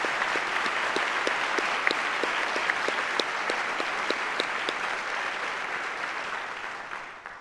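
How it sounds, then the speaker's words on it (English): Audience applause at a university presidential installation ceremony, a steady sustained clapping from a large crowd that holds evenly throughout before fading slightly at the end, with no speech over it. "Please join me in giving these wonderful leaders a round of applause."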